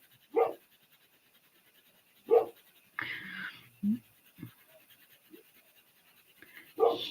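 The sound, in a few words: dog panting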